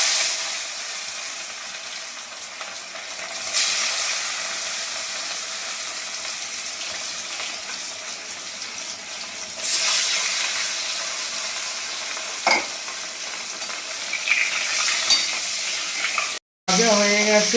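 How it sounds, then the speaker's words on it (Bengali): Fish pieces fry in hot oil in a pan, giving a steady, close sizzling hiss that swells at moments, with an occasional utensil tap and no talking. "মাছগুলো হালকা করে ভাজবো,"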